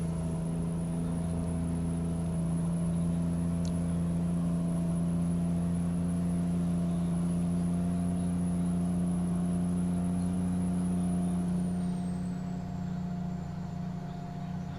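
A Dalton truck's engine in a driving game drones steadily at a low cruising pitch, a constant hum with no talk, easing slightly near the end.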